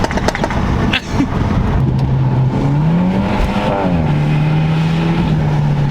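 A turbocharged BMW with an N20 engine accelerates hard, its loud, close exhaust note climbing and dipping in pitch as it pulls, with no talking over it.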